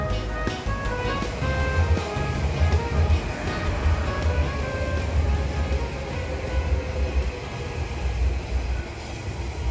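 An Odakyu Line commuter train on the route out of Shinjuku rumbles past with a steady, loud roar of wheels on rails and faint high squeal overhead, continuous and close.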